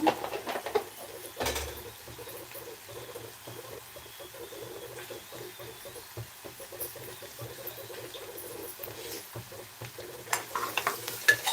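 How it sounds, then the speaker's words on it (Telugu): Ginger paste and turmeric sizzle and fry in a pan while a utensil stirs and scrapes through it, a steady close-up crackle with a few louder scrapes, and no voices. "అల్లము పసుపు పచ్చివాసన పోయేంత వరకు వేయించుకున్న తర్వాత"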